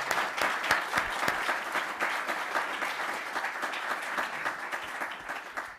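Sustained applause from a conference audience welcoming a panel of speakers, dense steady clapping for several seconds with no talk over it.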